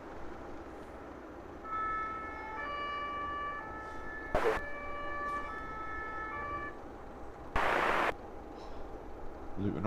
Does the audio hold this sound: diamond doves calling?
no